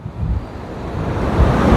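Waves wash onto a beach on a northern coast at night, a broad, rushing surf noise that swells and grows louder toward the end, mixed with wind buffeting the microphone.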